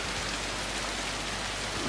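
Steady rain pours down on a cold, cloudy day, a dense even hiss of drops on surfaces that holds unbroken and fairly loud throughout, with no voices.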